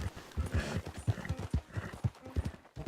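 Rapid hoofbeats of a horse galloping in Red Dead Online, a steady clip-clop rhythm of close, fairly loud thuds running throughout.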